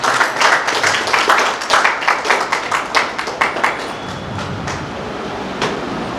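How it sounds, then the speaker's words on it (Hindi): A crowd at a Holi community gathering claps loudly at an honouring ceremony, a dense burst of applause that tapers into a few scattered claps over steady background murmur. "कृपया मैं चाहूंगा सभी लोग एक बार जोर से ताली जरूर बजाएं।"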